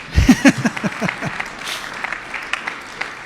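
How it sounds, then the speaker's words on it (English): A crowd at a public bridge-funding event with the Ohio and Kentucky governors bursts into applause, loud at first and then thinning into scattered clapping over a few seconds. "That was an applause line."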